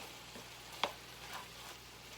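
Minced garlic is stirred into ground beef frying in a skillet for homemade hamburger helper. A faint, steady sizzle runs throughout, broken by one sharp spoon scrape, with no voices.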